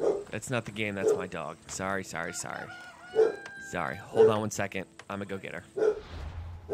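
A dog barks and yips in the room while someone talks over it during a video game session, with several sharp barks breaking through his steady speech.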